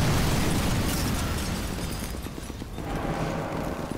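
A gas tank explodes in Sniper Elite 4, a loud, sustained roaring blast with broad rumbling debris that fills all four seconds before easing slightly.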